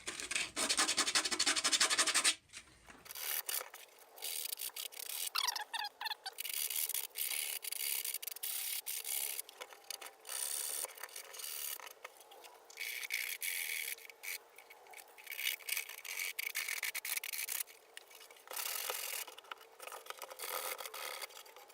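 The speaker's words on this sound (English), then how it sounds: "I'm using 80 grit sandpaper" Sanding a Black Panther mask with 80 grit sandpaper: repeated scratchy rubbing strokes in uneven bursts with short pauses, close up and with no talk.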